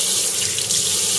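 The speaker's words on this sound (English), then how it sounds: "I'll rinse this one off." A kitchen tap runs steadily while a garlic clove is rinsed under it, an even close hiss of running water with no pause.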